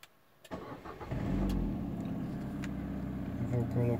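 Peugeot 307 or 308 car engine starting: a short starter crank, then the engine catching and settling into a steady, close idle.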